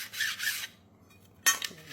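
A metal file is drawn across the edge of a card scraper. Two short rasping swipes are followed by a pause and then a third stroke, all close and quiet.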